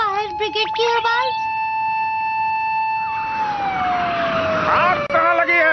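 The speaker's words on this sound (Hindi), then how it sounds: "फायर ब्रिगेड की आवाज।" A wailing siren rises and falls, steady and fairly close, with a cartoon-like tone and voices speaking over it at the start and end.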